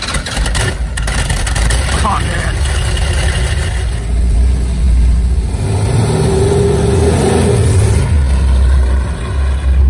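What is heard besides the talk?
1970 Dodge Challenger muscle car engine revving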